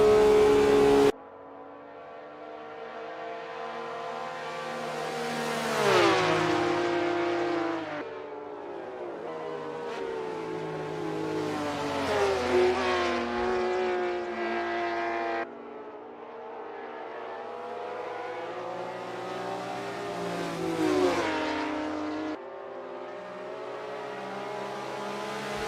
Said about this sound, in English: Vak Arcanum is 17th driving a Porsche 906